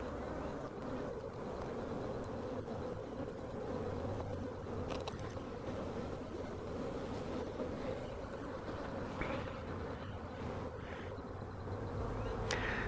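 Honeybees buzz in a dense, continuous drone during a beehive inspection, a steady close swarm hum with faint occasional knocks and no talking.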